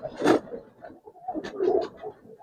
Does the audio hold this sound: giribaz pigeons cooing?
yes